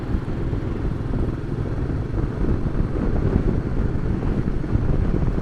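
Outdoor wind buffets a microphone covered by a windshield, making a continuous low rumbling roar with uneven gusty swells, close and fairly loud with no other sounds.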